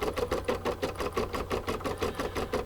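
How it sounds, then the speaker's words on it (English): An embroidery machine stitches a satin border on an in-the-hoop bee coaster, making a steady, fast, rhythmic whirring clatter of repeated needle strokes, close and continuous with no talking. "while it is stitching that"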